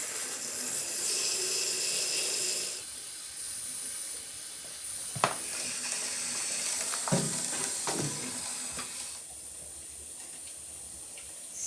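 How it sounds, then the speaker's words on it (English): Water filling the tubes of an underfloor heating system as air rushes out through the exit points, a steady loud hiss that drops partway through, with a few sharp knocks and clatters. "we're currently filling up all of these lines and all of the runs with water, and as it fills up with water, all of the air rushes out through these exit points"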